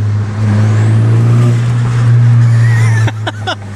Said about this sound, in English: Quinn's driving the Audi, so I could hear the intake.